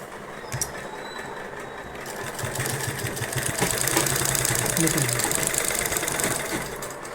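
A sewing machine stitching a border along the neckline of a sweetheart-neck garment, its motor running as a steady mechanical whir that builds and holds through the middle, with faint rhythmic clatter and no speech.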